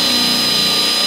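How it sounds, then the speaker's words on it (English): Power drill boring a hole through shed door framing, a loud, steady high-pitched motor whine held throughout at close range with no voices. "Now, I'm going to go drill a hole right through this"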